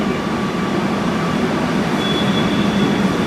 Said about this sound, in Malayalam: ഞങ്ങൾക്ക് മെട്രോ വന്നിട്ട് ട്രെയിൻ വരുന്നുണ്ട്.